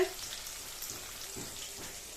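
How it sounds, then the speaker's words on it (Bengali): Hilsa fish fries in a pan in a home kitchen, a quiet steady sizzle and crackle with faint soft clinks, no talking. "দেখো ইলিশ মাছ ভাজা হচ্ছে"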